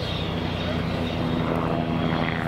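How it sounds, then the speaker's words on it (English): An Agusta A109 helicopter of the Belgian Air Force, powered by twin Allison 250 turboshafts, roars steadily at an air show, a loud continuous engine and rotor drone. "Twin engines, two 450 shaft horsepower Allison 250 turbo shafts"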